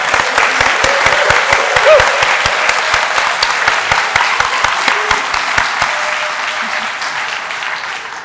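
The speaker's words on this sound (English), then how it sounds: "I think that deserves another round of applause" Medical school students and guests at a ceremony give a sustained round of applause, many hands clapping close and loud before tapering slightly near the end.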